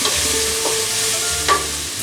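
Onion frying gently in a pot over low heat gives a steady, close sizzle throughout, with a couple of faint scrapes or taps from a utensil and no speech.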